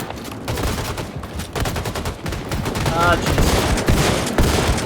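Rapid gunfire bursts from Wolfenstein II, loud and continuous across the clip, dense volleys with a player's brief exclamation over the shooting.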